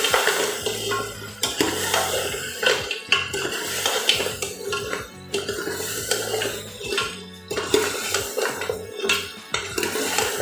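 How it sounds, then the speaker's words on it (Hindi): Mutton paya being stirred in a pot with salt and turmeric: a steady clatter of a utensil scraping and knocking against the metal pot, with repeated sharp clinks and rattles over a dense, busy kitchen background. "डाल के इसको अच्छे तरीके से हिलाएंगे।"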